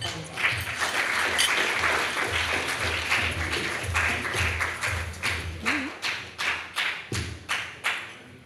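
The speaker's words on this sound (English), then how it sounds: "Please clap for him as he comes up" Dinner guests at an alumni meet-and-greet applaud a speaker coming up, a room-filling wash of clapping that thins out near the end into a few separate loud claps.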